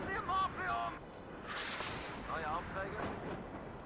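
An artillery gun fires in the WARNO game, with howitzers on a firing range: a couple of deep, booming blasts with rumbling tails, while someone talks between and around them.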